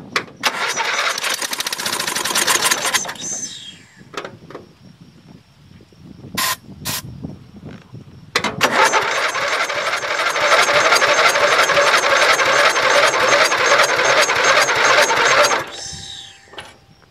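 A Dynamark engine cranks repeatedly after carb cleaner is sprayed in, loud rapid starter churning for about three seconds, a pause with a few clicks, then a longer sustained cranking run of about seven seconds before stopping.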